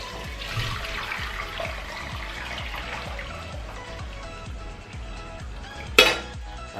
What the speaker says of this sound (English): What you want to do is you want to strain it out into another pot.